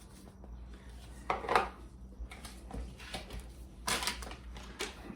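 Tuna casserole ingredients and breadcrumbs being mixed in a bowl, soft scraping, crunching and clinking of a utensil in irregular bursts, fairly quiet and close.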